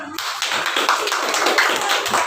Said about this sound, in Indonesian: Oke, tepuk tangan untuk semuanya.